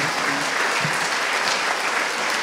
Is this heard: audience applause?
yes